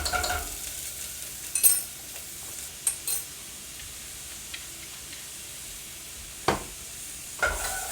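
Garlic sizzles softly in a frying pan while cooking Italian food, a quiet steady hiss broken by a few sharp scrapes and clacks of stirring, with no voices.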